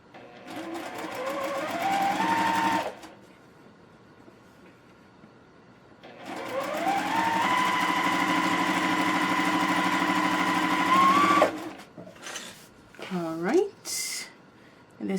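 Sewing machine stitching fabric in two sustained runs, a fast even mechanical whir that speeds up at the start of each run, close and clear, separated by quiet pauses, with talking at the end.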